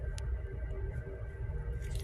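A 2024 Kia Sportage hybrid shifted into reverse emits a faint, steady electronic warning tone that holds evenly for a couple of seconds under low cabin rumble.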